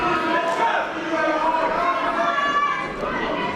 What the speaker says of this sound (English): And the crowd is all shouting for